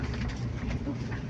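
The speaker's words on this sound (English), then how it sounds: "Bullet train Right here. coming in." Steady low rumble of a bullet train in Taiwan arriving at a station, a continuous rolling drone with faint clickety rail texture, heard close and fairly loud throughout.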